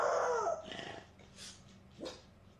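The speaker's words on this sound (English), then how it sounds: "the dog she is babysitting begins to act strangely, staring down at the hallway while barking" A French bulldog barks and growls toward a hallway, with a few sharp barks and throaty grumbles, close and moderately loud, separated by short quiet gaps.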